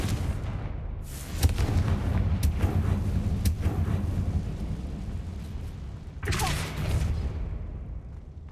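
A Confringo spell explosion in the video game Hogwarts Legacy goes off as a loud, rumbling blast, with a second booming burst following several seconds later over a steady background rumble.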